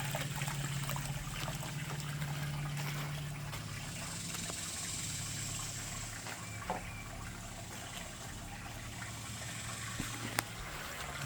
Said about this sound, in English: See the water going in there.